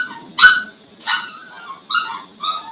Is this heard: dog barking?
yes